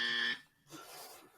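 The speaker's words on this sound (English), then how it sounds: "That's the buzzer." A harsh electronic game-show style buzzer blares for about a third of a second, then cuts off, followed by a brief softer noisy tail.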